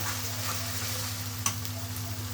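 Spices being sautéed and stirred in a hot pan, a soft continuous sizzle with a low steady hum underneath and one sharp scrape of the spoon partway through.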